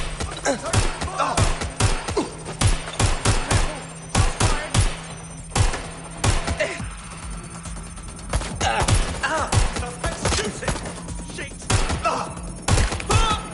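Repeated bursts of gunfire in the video game Watch Dogs: Legion, sharp loud shots in irregular clusters, with a low steady hum underneath.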